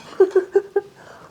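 Someone bites into a burger up close, giving four quick soft crunching chomps in rapid succession, then faint chewing in a quiet room.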